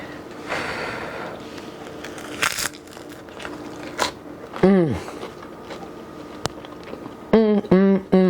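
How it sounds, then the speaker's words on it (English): Several sharp crunchy bites into crisp pizza crust, with loud close chewing crackles and a couple of brief sniffing or vocal sounds between them. "Listen to that crunch"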